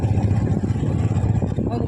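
A motorbike engine idles with a steady, low rumble close by as the bike is brought in to park at a mini Kedarnath temple outing, with people talking over it.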